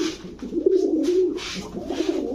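A racer pigeon coos in a low, throaty, continuous call, fairly close, with soft rustling and background hiss.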